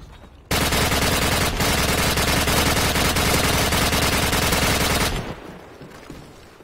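An RPD light machine gun in the Modern Warfare video game fires one loud, continuous burst of rapid shots for about four and a half seconds, then stops and leaves a fading tail.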